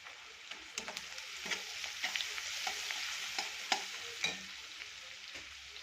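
Steady spoon stirring and a soft, even sizzle as a tempering for curd rice is sautéed in a pan with the gas turned off, with scattered scrapes and taps against the pan and no talking.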